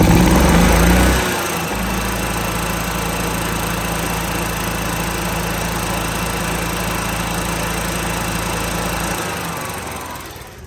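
An EZGO EFI golf cart engine revs high at close range, then drops to a steady, loud, buzzing drone that holds before easing off at the end.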